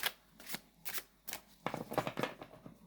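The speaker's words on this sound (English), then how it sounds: "I've been using nothing but linen cards. Because they're so much easier to shuffle." Linen-finish tarot cards being shuffled by hand, a series of crisp riffling bursts, close and fairly quiet, with short pauses between the first few shuffles and a quicker run of riffles toward the end.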